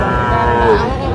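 A young Sahiwal bull calf, about five to six months old, moos loudly and close by at a busy cattle market, one sustained bellow with crowd murmur beneath.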